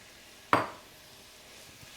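Onions tipped into a hot pan for caramelizing give one sharp clattering hit and a brief hiss, then fade to a soft, low sizzle with no talking.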